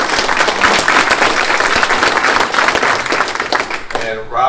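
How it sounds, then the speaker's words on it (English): An audience applauds at a Chamber of Commerce breakfast event, a loud, continuous round of clapping from a crowd, tapering off as a voice begins speaking at the end. "Let's give them another round of applause"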